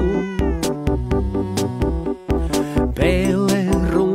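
A cat meows repeatedly in a series of loud, close, drawn-out calls with short gaps, ending in a longer wavering yowl, no talk.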